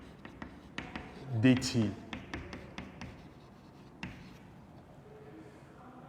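Chalk or marker tapping and scratching on a board in short, sparse strokes, fairly faint, while someone speaks French briefly over it.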